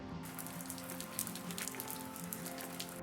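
Rain patters onto surfaces in changeable late-spring New Zealand weather, close and continuous with distinct drops ticking over a soft hiss, alone without speech.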